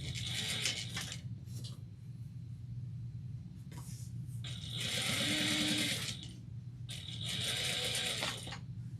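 A sewing machine stitches bias binding in three steady bursts of whirring, with quieter pauses and a low constant hum between runs.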